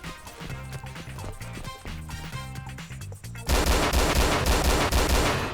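Rapid gunfire in the survival game DayZ, with repeated sharp shots that grow into a loud, dense burst in the second half, over background game sounds.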